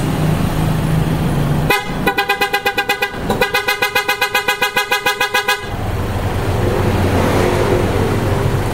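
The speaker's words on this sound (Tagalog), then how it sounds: "Ngayon, pakinggan natin ang horn mga boss." PIAA OTO style aftermarket car horns mounted on both sides of an Isuzu Dmax blare in two loud bursts of rapid, rhythmic pulsing honks, close and dominant over a low engine idle.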